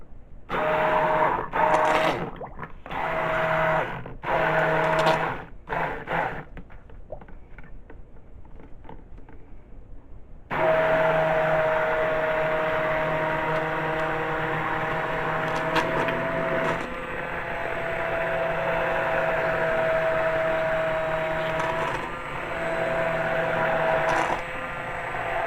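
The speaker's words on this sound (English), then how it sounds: "So we're gonna stick blend, and we're gonna stir, we're gonna stick blend" A stick blender whirs in repeated bursts with brief pauses, then runs steadily for a long stretch with a rattling, mechanical hum, blending dish soap.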